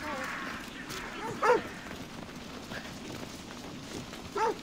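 Dogs barking in Assassin's Creed Odyssey, two short sharp bursts of barks, one early and one near the end, under steady game ambience with soft rain-like hiss.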